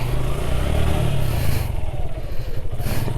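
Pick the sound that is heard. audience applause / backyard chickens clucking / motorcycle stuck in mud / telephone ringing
motorcycle stuck in mud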